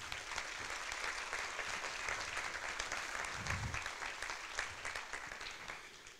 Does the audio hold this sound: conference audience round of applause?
yes